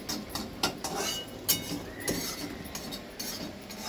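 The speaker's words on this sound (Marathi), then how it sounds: "दिदी बघा भांडी घासते" Plates and utensils clink and clatter as they are scrubbed in a home kitchen, a steady run of close, sharp metallic knocks with no talking.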